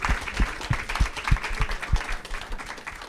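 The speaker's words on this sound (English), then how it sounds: "can we give a round of applause to our defenders today?" Audience at a community reading event applauding, a modest, fairly close patter of hand claps with a few distinct louder claps standing out, steady for about three seconds.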